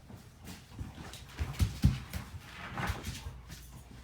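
A puppy whimpers and whines in short, soft bursts indoors, with a few louder yelps in the middle and a faint rustle of movement around it.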